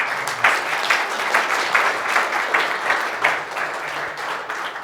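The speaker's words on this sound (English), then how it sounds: "Let's give him a round of applause." Steady applause from a crowd, with many hands clapping densely and continuously at a fairly even loudness.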